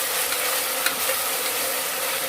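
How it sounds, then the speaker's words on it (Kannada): Ginger garlic paste frying in a pan for a peas pulao, a steady, even sizzle heard close up and alone with no talk. "ಈಗ ಶುಂಠಿ ಬೆಳ್ಳುಳ್ಳಿ ಪೇಸ್ಟ್ ಕೂಡ ಚೆನ್ನಾಗಿ ಹಸಿ ವಾಸನೆ ಹೋಗೋವರೆಗೂ ಚೆನ್ನಾಗಿ ಫ್ರೈ ಮಾಡ್ಕೋಬೇಕು"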